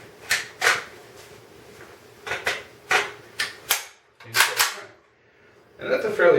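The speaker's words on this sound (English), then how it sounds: "that's a fairly quick reload, even without me trying to rush it" An AK-47 rifle magazine reloaded left-handed gives a series of sharp, close metallic clacks and snaps at irregular intervals, with quieter handling rustle between them.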